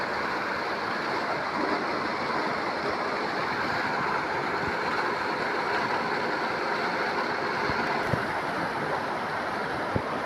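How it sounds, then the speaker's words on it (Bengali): A waterfall pours continuously, producing a dense, even hiss and rush that stays constant for the whole stretch, with no voices over it. "কত সুন্দর পানির ঝর্ণা, পানির শব্দটাও শুনতে অনেক ভালো লাগে"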